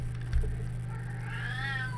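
An old deaf cat meows in one long, rising, drawn-out call, fairly close and clear over a steady low hum in an indoor room.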